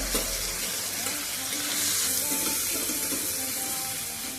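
Chickpea masala with turmeric sautéing in a pan, a dense continuous hiss and sizzle close by, slightly watery and bubbling throughout, with no speech.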